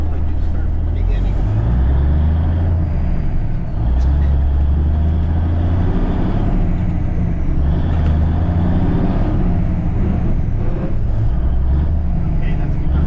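A 1983 cabover truck with spring ride suspension drives along, its engine running as a loud, steady low rumble throughout, with voices talking over it.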